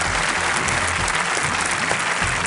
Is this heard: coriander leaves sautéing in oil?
no